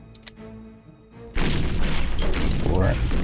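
Panzer General II artillery strikes cavalry in a WWII Poland 1939 campaign: after a faint tone and quiet lead-in, a sudden loud booming barrage of crashes and thuds sustains to the end.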